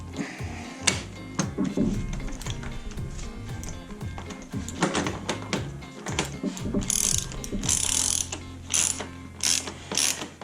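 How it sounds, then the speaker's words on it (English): A hand ratchet unscrews a motorcycle fork cap during a fork seal and suspension service, giving rapid, close clicking bursts that come in uneven runs with short pauses and a few metallic knocks. "We're going to unscrew the fork cap"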